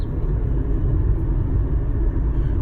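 A car engine runs steadily just after a shift into fourth gear, a continuous loud low rumble with a constant hum and no talking.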